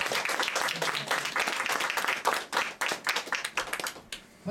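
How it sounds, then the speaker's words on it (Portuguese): Church congregation clapping together during a worship service, a dense lively round of applause with rhythmic hand claps that thins and fades out near the end, fairly close. "Uma salva de palmas para esse Jesus."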